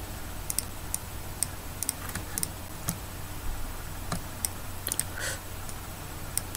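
Quick, light keystrokes on a computer keyboard come in an uneven run of soft clicks, close and fairly quiet over a faint steady hum, with no talking.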